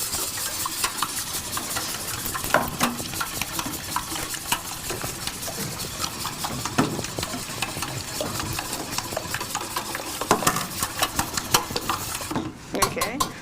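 Four eggs are whisked in a bowl in a kitchen, a rapid continuous clatter of utensil against dish that runs for several seconds, close and busy, briefly easing near the end.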